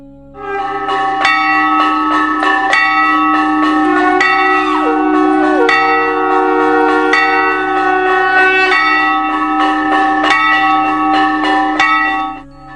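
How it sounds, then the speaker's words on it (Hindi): A Hindu temple bell is struck over and over in a steady rhythm, each strike bright and metallic with a long ringing tail that overlaps the next, loud and close throughout. "घंटी की आवाज 7 सेकंड तक गूंजती है और दिमाग के दोनों हिस्सों को सिंक्रोनाइज करती है।"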